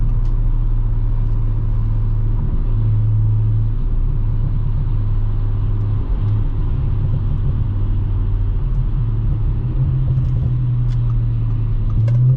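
A 2018 Audi S4 with a 3.0T engine cruises on a road, its steady engine drone and low rumble loud and continuous with road noise, with no talk.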